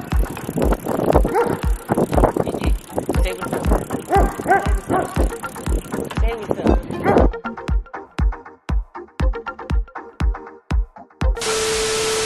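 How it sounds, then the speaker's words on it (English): Background music with a thumping beat plays over a bicycle ride with a chihuahua riding along, then cuts to sparse clicking and ends in a burst of loud static hiss; a little yipping may sit faintly under the mix. "We're going on a bike ride."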